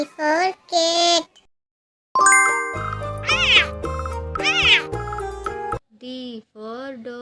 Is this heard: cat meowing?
yes